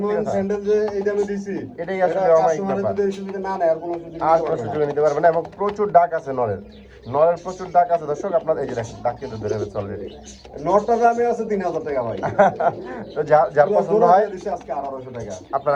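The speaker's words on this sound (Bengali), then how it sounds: "আগে ডাকটা শোনেন কোকা কবুতর" Koka pigeons coo in repeated low, throaty phrases that pulse steadily and overlap one another, close and fairly loud.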